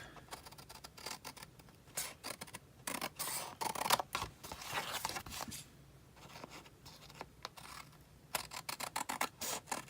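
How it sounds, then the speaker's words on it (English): Scissors cutting around a handmade Easter card, a steady run of close, crisp snips and paper rustles with brief pauses, no talking. "Then I'm going to cut around it"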